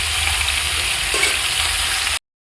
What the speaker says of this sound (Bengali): এবার আমি একটু নাড়াচাড়া করে নেবো তেলের মধ্যে।